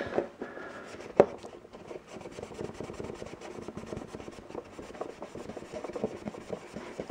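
A rag soaked in non-acetone nail polish remover rubs back and forth over a clear RC crawler window, giving a soft, continuous close-up scrubbing with steady rasping strokes and one sharper knock early on.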